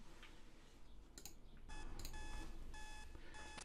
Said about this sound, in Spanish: ¿Veis? Es una alarma.